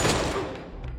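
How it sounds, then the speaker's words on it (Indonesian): Gunfire from a film scene, a dense burst of shots at the start that fades over a second, with no talk. "Dan mereka mulai menembak anak buah Direktur Cho."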